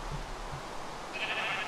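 Sheep bleating in the video game Minecraft, a short bleat heard over steady background hiss and a low hum.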